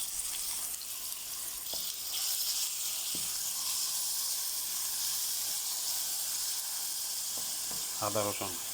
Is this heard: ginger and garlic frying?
yes